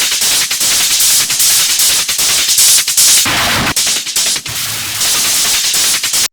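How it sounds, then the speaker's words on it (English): Heavily distorted Schranz-style hard techno percussion pounds in dense, loud, rapid bursts, with harsh crackling hits and brief dropouts in a melodic hard techno production. "What you need to do is you actually need to, again, do the Schranz thing here, so we're going to distort it."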